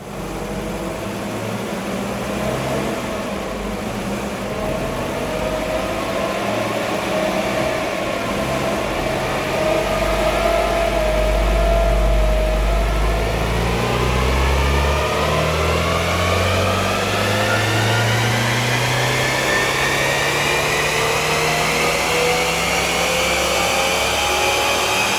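Citroën GSA air-cooled flat-four engine running on a dyno, revving up through a long rising pull, then dropping back and climbing again, loud and close with no talk.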